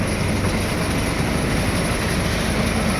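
A zoo train at Vancouver's zoo rumbles steadily across a bridge over the Salmon River, a dense, continuous low roar of wheels and carriage noise with no pauses.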